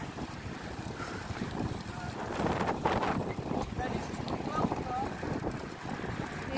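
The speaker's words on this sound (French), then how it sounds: "Désolé, s'il y a du vent, on est tout près de la mer." Wind buffets the microphone close to the sea during a bicycle ride, a rough, gusty rumble rising and falling, with people talking faintly underneath.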